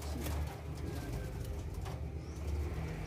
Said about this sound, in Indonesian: Ini perkutut bangkok semuanya